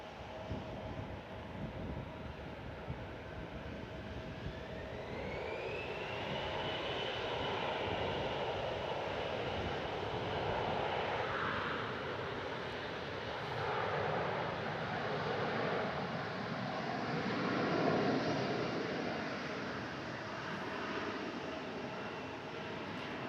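A Southwest airliner bound for San Diego at San Francisco International Airport, a steady jet engine roar that builds with a rising whine and holds at a moderate, somewhat distant level throughout.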